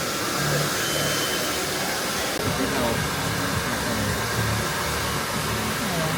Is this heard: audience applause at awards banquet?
no